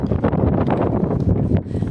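Strong wind buffets the microphone in a steady, loud roar with gusty rumbling throughout, no voices heard.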